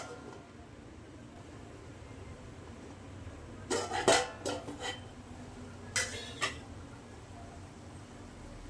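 A plate is set as a lid over a pan of cooking beetroot for halwa, producing a few faint clinks and scrapes of metal and crockery over quiet kitchen background.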